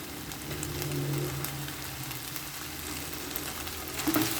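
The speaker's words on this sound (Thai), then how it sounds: "จากนั้นค่อยใส่ กระหล่ำลงไป" Cabbage stir-fried with glass noodles and shrimp in a hot pan, a loud continuous sizzle and crackle close up, with a brief scrape of stirring near the end and no talk.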